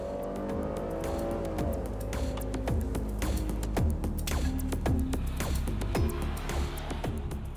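A 2019 Buick Enclave with a 9-speed automatic accelerating on a road test: a steady engine drone rising in pitch through the gears, with a sharp clicking or tapping pattern running over it from the cabin.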